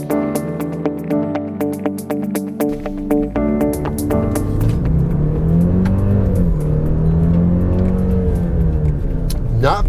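A 2022 Genesis GV70's 2.5-liter turbocharged four-cylinder engine revs up and accelerates with a rising, sustained hum and whir, starting with rhythmic clicking and a sharp onset before building steadily.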